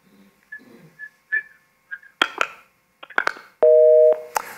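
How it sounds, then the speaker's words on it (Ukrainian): A phone call to a live broadcast drops and the line cuts out. Faint noise and sharp clicks lead into a single loud, steady beep tone near the end. "На жаль, зірвався телефонний дзвінок."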